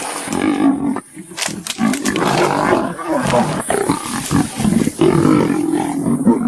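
A lion roars loudly in the wild, with deep, rough, sustained bellows running almost without a break, close and dominating the scene.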